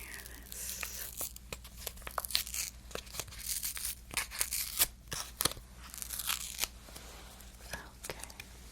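Fragrance towelette sample packet from a 1980s Avon sales kit being torn open up close: crisp, crinkly ripping and rustling in a steady series of sharp, irregular snaps and tears, fairly quiet but intimate, with no voice over it.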